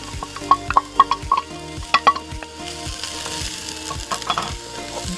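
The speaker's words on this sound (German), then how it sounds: "Schmoren die schön an." Onions sizzle in olive oil inside a Dutch oven, a steady frying hiss under a string of sharp utensil taps and stirring knocks near the start, then looser scraping as the pan settles.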